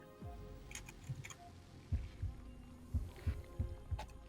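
A heartbeat sound effect in Honkai: Star Rail thumps softly in paired low beats that repeat at a steady pace, faint beneath a quiet ambient hum.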